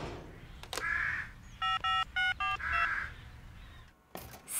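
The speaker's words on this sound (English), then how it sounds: "I've just got to phone Wendy first." Telephone keypad dialing tones in a Bob the Builder cartoon scene: four short, clear electronic beeps in quick succession at moderate loudness, with brief harsher sounds before and after.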